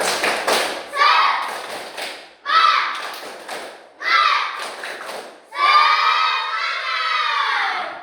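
Children perform a rhythmic spirit clap with shouted chant in bursts, four short clapped phrases followed by a longer sustained group shout, close and loud in a classroom.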